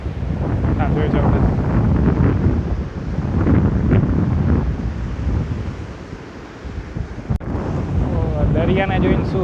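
Sea waves and strong wind at the shore in Dwarka, a loud rumbling surge with heavy wind buffeting the microphone, easing briefly before building again, with a sharp knock and faint voices near the end.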